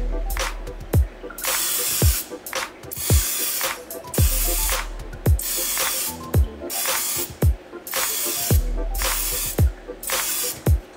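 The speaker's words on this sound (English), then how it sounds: "now let's see how the Misto Oil Sprayer sprays on the other side of the" A refillable Misto oil sprayer, which uses no propane or butane, mists oil onto a pan in repeated short, close hissing sprays, each burst followed by a brief click as the pump is worked.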